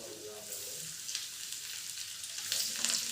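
Rava-coated prawns going into hot oil in a pan, a steady bright sizzle that swells louder toward the end as more pieces hit the oil.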